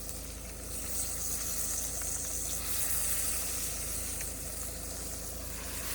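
Steaks fry in a pan at a forest picnic, giving a steady, even crackling sizzle that keeps going without a break and no voices over it.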